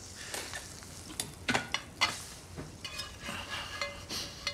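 A frittata sizzles in a hot frying pan with steady frying hiss, broken by scattered scrapes and clinks of stirring, close and moderately quiet, with no one talking.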